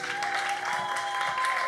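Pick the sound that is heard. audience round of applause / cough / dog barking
audience round of applause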